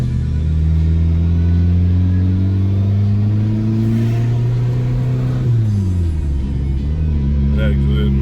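Honda Civic with an aftermarket turbo and a rod-bearing fault, engine droning loud and steady while driving, pitch holding then dropping as it shifts near the end, with a low rumble throughout.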